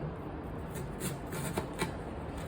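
A knife cuts an onion into tiny cubes for Japanese potato salad, a fast run of soft, quiet, close chopping taps on a board, with no talk.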